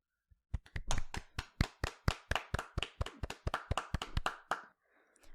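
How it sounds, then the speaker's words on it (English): Two podcast hosts give a round of about twenty sharp hand claps, close and steady, trailing off into quiet at the end with no talking. "Give a round of applause."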